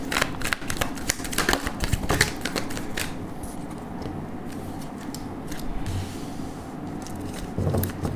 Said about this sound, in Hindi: एक शफल और करूंगी।